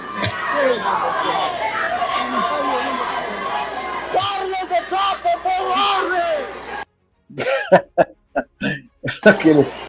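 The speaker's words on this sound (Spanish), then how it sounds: "¿Y de dónde vienen los gritos?" Legislators in Ecuador's Congress shout and clamor during a disorderly vote, a dense overlapping roar of voices with bursts of louder yelling, then cutting to sharper isolated shouts and calls separated by brief silences.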